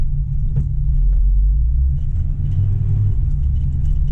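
A first-generation Toyota 4Runner engine rumbles steadily at low pitch as its tires spin on a slippery off-road trail, heard close and without talk.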